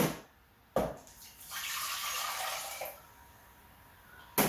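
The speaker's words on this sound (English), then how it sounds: "You're going to add your 2 cups of vinegar." Vinegar poured into a pot for a homemade pickle brine, a soft splashing pour that swells for a couple of seconds and fades, framed by quiet handling knocks and clinks.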